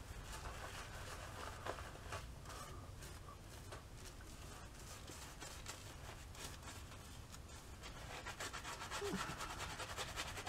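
Braywood Farm sandalwood shaving soap lathered with a brush, soft continuous swishing and rubbing strokes at close range, quiet and steady, with no one speaking.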